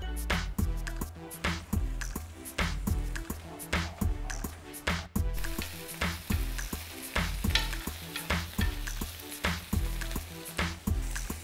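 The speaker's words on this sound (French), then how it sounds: "Dès que le beurre mousse légèrement, on peut y rajouter les crevettes pour à peine quelques secondes de cuisson." Shrimp sizzle in lightly foaming butter in a pan, with regular stirring or tossing strokes producing a steady pulsing rhythm, close and fairly quiet, with no talk.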